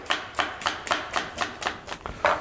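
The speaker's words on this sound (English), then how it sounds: "I'm going to finely chop this onion" A knife finely chops an onion on a cutting board, giving about eight crisp, evenly spaced chops in quick rhythm, close and clear with no voice.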